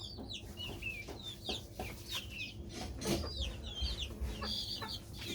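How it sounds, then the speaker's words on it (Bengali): Domestic native chickens with several roosters in a backyard coop, clucking and squawking in quick scattered bursts, fairly faint, with a low background hum. "এখানে আছে 4-5টা মোরগ।"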